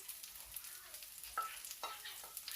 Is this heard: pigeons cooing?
no